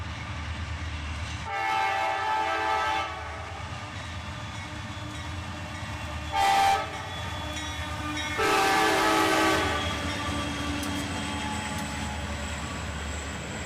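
CSX freight train led by an AC44CW locomotive with an SD40-2 trailing, rumbling past with three blasts of its horn, two sustained and one short, over steady rolling noise.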